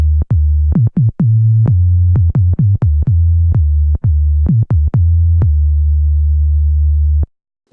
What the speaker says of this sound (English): kill the VCOs, so you can use the filter as a sine wave oscillator